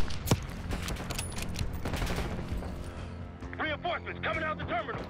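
Gunfire in the video game Call of Duty Black Ops 6 during sniping: a sharp opening shot followed by a dense rattle of battlefield shooting, with shouted voices breaking in toward the end.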